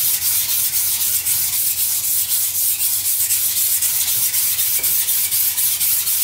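Steady, continuous rubbing and grinding of a kitchen knife stroked back and forth on a whetstone to flatten the face, a close, even scraping rhythm filling the whole stretch with no talking.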